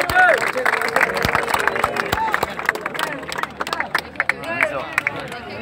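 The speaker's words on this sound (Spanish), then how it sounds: "¡Aplauso!" A crowd at a three-on-three rap battle final in Santa Fe claps, cheers and shouts in dense, overlapping bursts, with voices and whistles running all through the noise.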